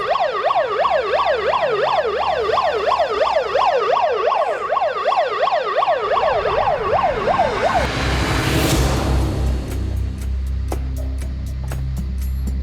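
An ambulance siren wails in a fast rising-and-falling pattern, loud and close, then cuts off and gives way to a rougher passing-vehicle rush and street noise with a few sharp clicks.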